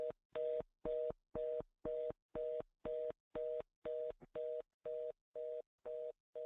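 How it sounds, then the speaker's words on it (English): A steady series of short electronic beeps repeats at an even pace over a phone line, about two per second, with brief silences between. "we hear a beeping noise in the back"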